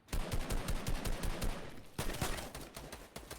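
Rapid gunfire in a Fortnite match, dense bursts of sharp shots rattling in quick succession with a brief lull before another volley, loud and continuous throughout.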